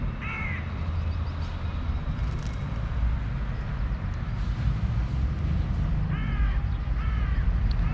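Crows give harsh warning caws at a morning feeding spot shared with pigeons and a seagull. A few close, loud calls come in short bursts near the start and end over a steady outdoor rumble.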